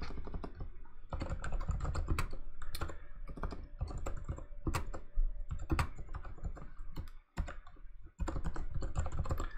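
Steady typing on a computer keyboard, a dense run of close, quiet key clicks with two brief pauses.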